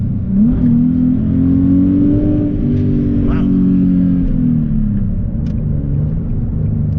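Nissan 370Z sports car engine revs up and holds a loud, steady drone during a second-gear downshift and pull, with the pitch rising early then easing off near the end.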